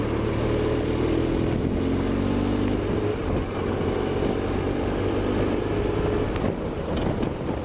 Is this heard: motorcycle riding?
yes